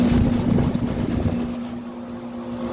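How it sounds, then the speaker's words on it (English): A vintage York Tombstone air conditioner running: a loud, steady rattly mechanical hum with a low droning tone, close by and alone. "Vintage York Tombstone running."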